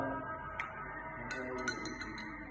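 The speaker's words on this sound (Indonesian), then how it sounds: "aduk lagi." A spoon stirs sugar into cold water in a glass, giving a few light, bright clinks against the glass over a steady low background, alone with no talk.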